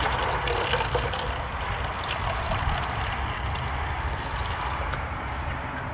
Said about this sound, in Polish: Jeden to taki mechanizm, tu wlewamy wodę.